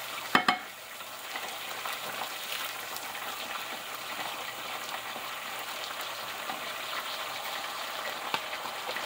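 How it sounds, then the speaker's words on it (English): Rice tipped into a sizzling pot and stirred, a sharp clatter at the start followed by a steady, close frying hiss with faint scraping throughout. "now I'm gonna add my rice here"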